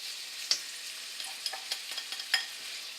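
Vegetables and finely cut noodles sauté in a pan for vegetable nems, giving a steady soft sizzle punctuated by small clicks and scrapes of stirring, close and alone.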